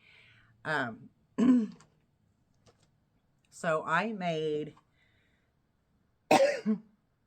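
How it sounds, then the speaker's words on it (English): A few separate throat clears and short coughs, close and loud, with a brief spoken phrase between them. "I still have a little bit of coughing issue."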